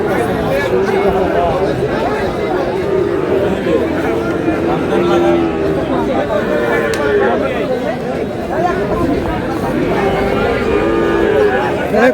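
Sahiwal cattle mooing at a busy cattle market in Dhaka, several drawn-out lows rising above steady crowd chatter and bargaining voices throughout.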